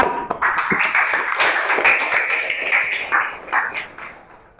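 Students in a classroom applaud a group after its presentation, a burst of fairly close, bright clapping lasting several seconds before thinning out toward the end.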